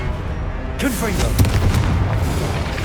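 A Confringo fire-blast spell explodes in the Hogwarts Legacy video game, landing as a loud booming blast with crackling debris and rumble that carries on for a couple of seconds.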